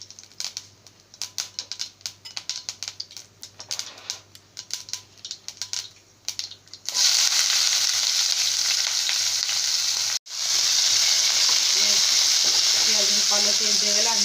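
Onions drop into hot oil and burst into a loud, steady frying hiss that runs to the end, after several seconds of quieter clicking and tapping.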